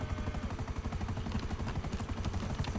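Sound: helicopter in the video game GTA 5 Online

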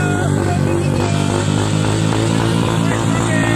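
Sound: mini motorbike engines at the start of a race

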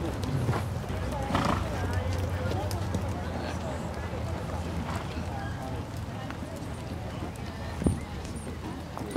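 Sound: horses walking in a riding show ring

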